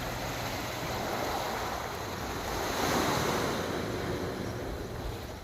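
Calm waves wash onto a beach before a storm, with a steady surf and a light wind rumble. The sound swells a little in the middle and is heard alone, with no voices.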